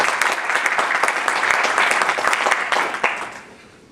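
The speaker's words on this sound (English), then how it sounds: "So let's give Jorge a round of applause and an IUN welcome." An audience applauds to welcome a speaker at a university talk, a dense, bright burst of clapping that stays steady for several seconds before fading out.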